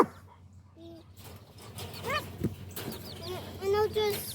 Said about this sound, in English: He's barking at them.